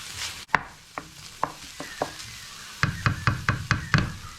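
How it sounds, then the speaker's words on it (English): Paprika and garlic fry lightly in a pan, with a soft sizzle beneath a series of sharp utensil knocks and scrapes against the pan, close up and without talk. "I'm just going to give that a really quick light fry up, not for too long."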